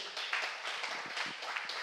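A church congregation claps together during a Korean sermon, a soft, fairly distant patter of many hands that holds steady for a couple of seconds with no voices over it.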